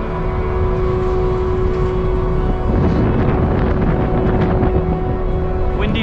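Strong wind buffeting high on an abandoned AT&T microwave tower, a loud steady roar with rumbling gusts across the whole stretch and no talk.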